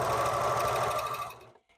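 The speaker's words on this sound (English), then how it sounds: "We keep serging." A serger sewing machine stitches fabric at speed, a close, steady rapid mechanical whir and clatter that stops abruptly near the end, followed by a faint click.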